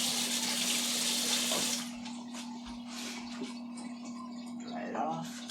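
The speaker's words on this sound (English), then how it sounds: "I'm just gonna wash this fork that I used earlier." Running tap water splashes over a fork being washed in a kitchen sink, a steady close rush that eases after a couple of seconds while small clinks and handling noises continue, with a low hum underneath.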